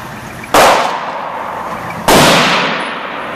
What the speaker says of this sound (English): How many rounds do you think we shot?